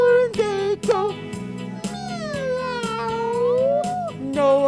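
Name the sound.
voice imitating a cat meowing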